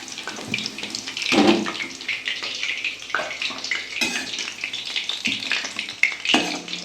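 Chicken 65 fries in hot oil in a kadai, a continuous crackling sizzle with bursts of louder spattering and stirring or lifting noises as pieces are moved, close and without talk.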